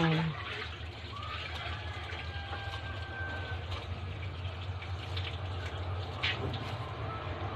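Tap water runs in a steady, soft stream for several seconds, low in level, with a faint background hum and a few small knocks.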